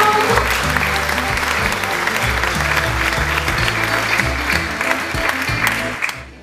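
Large crowd applauding continuously at a public event in Duisburg, Germany, a dense steady wash of clapping that stays loud throughout and tapers slightly at the end.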